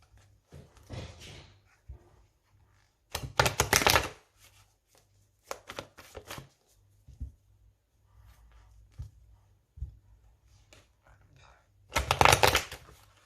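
Oracle cards being shuffled by hand, repeated crisp riffling bursts of a second or so each with quiet gaps and light handling taps between.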